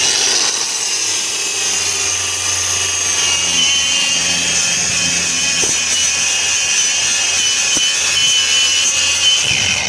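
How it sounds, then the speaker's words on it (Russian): A SHIDOKU cordless angle grinder grinds at maximum speed, a loud, continuous high-pitched whine with a rough grinding edge that holds steady for the full ten seconds. "Максимальная скорость. Поехали шлифовать."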